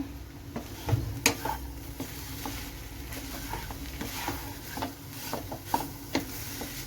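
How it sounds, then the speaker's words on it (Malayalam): A spoon stirs cooked green mango thoran in a pan, making soft, irregular scraping and tapping clicks, with a faint sizzle underneath, close and fairly quiet. "നമുക്കൊന്ന് തുറന്ന് നന്നായിട്ടൊന്ന് ഇളക്കാം മാങ്ങ ഒക്കെ അതേണ്ട വെന്തിട്ടുണ്ട്"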